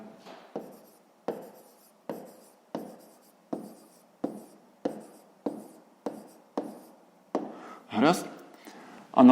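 Pen strokes on notebook paper while a 5th-grade maths exercise is solved, a steady series of about a dozen short scratchy writing bursts with a brief voice near the end.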